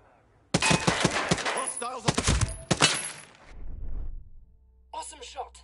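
Ghost Recon Breakpoint gunfire rattles in close, sharp bursts over a couple of seconds, then fades to a low rumble, with a short burst of further shots near the end.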